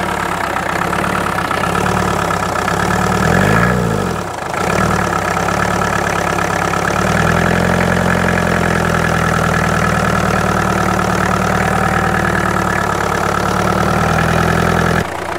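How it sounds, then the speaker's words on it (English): A Peugeot 504 pickup, left abandoned in a field for years, idles with a lumpy, uneven rumble after about ten minutes of running, steady and close throughout with a brief dip in the beat around the middle. "so she's been idling now for about 10 minutes"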